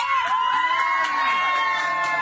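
A crowd of protesters outside a congressman's family home cheers and whoops together, voices blending into a dense, bright, sustained roar with a few shrill shouts.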